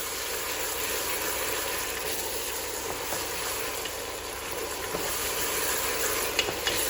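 A pot of cioppino with shrimp and mahi mahi cooking, a soft continuous sizzle and bubbling hiss at moderate distance with faint occasional clicks, no talking.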